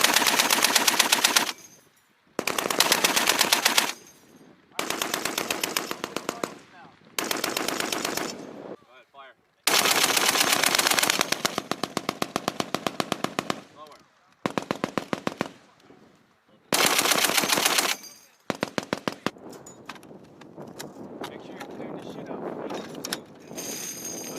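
Repeated long bursts of automatic machine gun fire at a US Marine Corps annual training range, loud and close, separated by short pauses, with voices talking between bursts.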